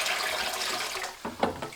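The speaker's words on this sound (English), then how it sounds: "we're just filling up the balance with water from the ute out the front" Water pouring into an aquarium system from a vehicle out front, a steady rushing and splashing fill, close and continuous, with a couple of brief gurgling bursts toward the end.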